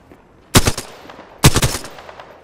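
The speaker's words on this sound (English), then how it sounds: "Shots fired at me." Two loud, close bursts of automatic gunfire in the Apex Legends battle royale game, each a rapid string of several shots, separated by a short gap.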